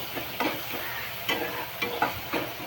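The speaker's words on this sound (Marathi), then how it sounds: "कांदा टोमॅटो पण भाजत आलाय" Onion and tomato fry together in a pan for a green chilli and moong bhaji, a soft sizzle broken by several rhythmic scraping stirs of a spoon against the pan.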